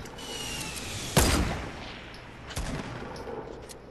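Two sharp gunshots in Fortnite, no-scope sniper fire, a loud close crack followed about a second and a half later by a second, fainter shot over low game ambience.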